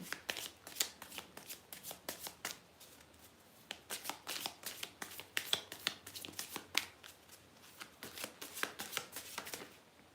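A deck of oracle cards shuffled by hand during a live reading, with a steady run of crisp riffling bursts and soft flutters repeating for the whole stretch, close and moderately loud with no talking.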